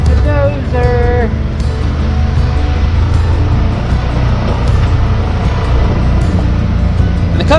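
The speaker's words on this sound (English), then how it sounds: "Oh, they must still be working. Right there's the dozer." A bulldozer working on off-road trails rumbles as a steady, loud low engine drone throughout, with people talking over it and a few brief higher tones near the start.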